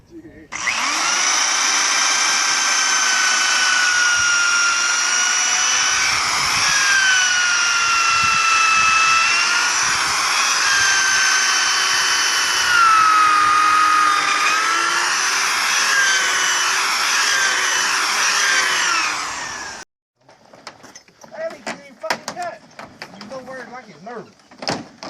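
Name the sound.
power drill with 1/2-inch bit drilling through steel and wood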